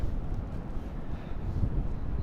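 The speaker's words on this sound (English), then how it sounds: "Wind coming up off the river through these canyons of buildings here." Breezy wind coming off the river through tall city buildings, a low, continuous buffeting rumble on the microphone for a couple of seconds with no talking.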